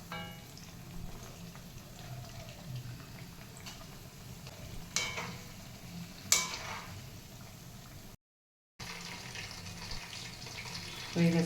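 Lentil vadas for dahi vada frying in hot oil, a faint steady bubbling sizzle with occasional clinks and scrapes, then a brief silent gap and louder handling noise at the end.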